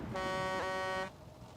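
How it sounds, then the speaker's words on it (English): A truck horn in the World War II shooter Hell Let Loose sounds one steady, loud toot of about a second. Its tone is bright and harmonic, and it cuts off sharply into low background game noise. "So is that our truck or theirs?"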